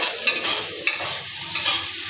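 Chopped green chillies stirred in a frying pot while making chicken biryani: steady sizzling with three distinct scraping strokes of a spoon against the pot, close and fairly loud.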